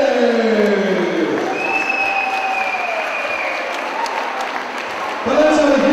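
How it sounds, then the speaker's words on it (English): A fight-night crowd at a lightweight title bout applauds and cheers loudly for the losing challenger, with a heavy, continuous roar of clapping while an announcer speaks over the noise. "let's have a huge round of applause for a fantastic challenger"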